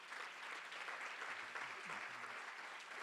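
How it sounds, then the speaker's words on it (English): Audience applause rings out at a food security conference for Secretary Ed Wengren, a steady, dense wash of many hands clapping at moderate distance, sustained without a break for three seconds, with faint voices murmuring underneath. "Secretary, give him a big round of applause."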